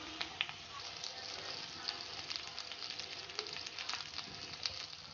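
White and yellow pumpkin pieces frying in a pan while being stirred, a steady soft sizzle with scattered light scraping clicks throughout.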